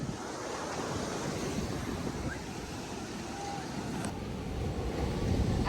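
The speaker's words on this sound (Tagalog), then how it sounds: "Ang lakas ng alon dito." Strong ocean waves roll in at Patar Beach in Pangasinan, a continuous surf roar with wind noise on the microphone, swelling slightly louder toward the end.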